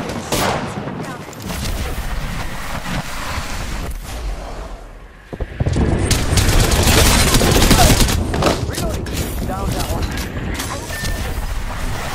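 Gunfire in the Apex Legends battle royale video game: rapid bursts of shots, a brief lull near the middle, then loud sustained fire resuming, with game effects mixed in.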